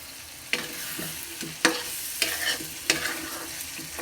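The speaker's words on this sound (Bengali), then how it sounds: "এখন আলু দিয়ে ভালো করে কষাবো।" Chicken masala and potatoes stir-fried in a pan, with a steady sizzle under four sharp scraping strokes of a spoon against the pan, spaced about a second apart, close and fairly loud.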